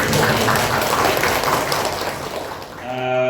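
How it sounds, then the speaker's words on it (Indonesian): A crowd claps steadily for a few seconds, loud and close, then fades out as a voice begins. "Tepuk tangan dong ya."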